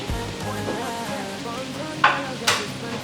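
Leek and green pepper hitting a hot pan, a soft sizzle under background music, with two brief sharp bursts of sizzle or stirring near the end.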